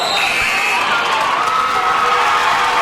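Loud, dense crowd cheering and shouting at a girls' high school basketball game between Whitman-Hanson and Newburyport, sustained roar from a packed gym with a commentator talking over it.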